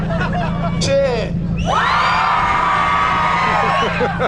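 A crowd cheers, whoops and shouts loudly in a sustained burst, voting by acclaim for a 1.8 naturally aspirated Mazda MX-5 at a car rev-battle event, with a brief voice just before the roar builds.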